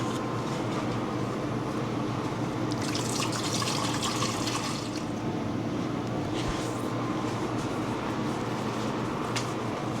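Water pouring into a Tuttnauer autoclave under repair for a high heat fault, a steady close liquid rush that runs unbroken and swells in places.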